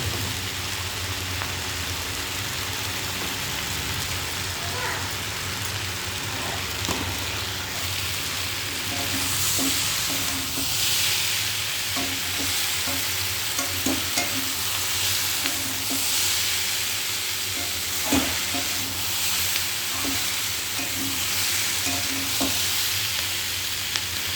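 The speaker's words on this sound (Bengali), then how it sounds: "দেখো বেগুনগুলো খুব সুন্দরভাবে নরম হয়ে গেছে, সব কিছুই খুব সুন্দরভাবে কষানো হয়ে গেছে।" Eggplant sautéing with turmeric in a pan, a dense, loud sizzle running throughout with scattered stirring scrapes and taps from a utensil and no talking.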